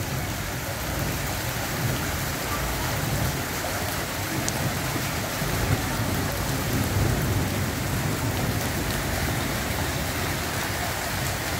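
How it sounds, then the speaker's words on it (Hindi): Very heavy rain with hail pours down in Quetta, a loud continuous roar of drops and pelting on surfaces, with low rumbling thunder underneath throughout and no speech. "इंतहाई तेज़ बारिश और ज़ालाबारी."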